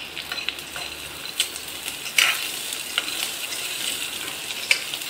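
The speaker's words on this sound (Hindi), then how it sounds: "और मंगोड़ी को भी प्याज के साथ 5 मिनट मीडियम आंच पर भूनें" Mangodi lentil dumplings fry with onion and green chilli in a pan over medium heat, a steady soft sizzle broken by occasional sharp scrapes and taps of a stirring spoon.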